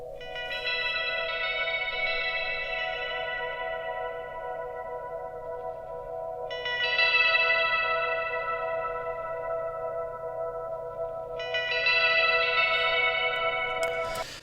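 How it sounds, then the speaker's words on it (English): Electric guitar picking notes through a Vox AC15 amp profile on a Kemper, drenched in heavy, long-tailed reverb with slight delay; three bright picked phrases ring out and wash together, no voices. "So you can kind of just about hear the guitar playing some picking notes."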